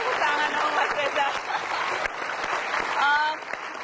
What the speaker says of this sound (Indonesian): Boleh gabung tepuk tangan sama Mas Reza.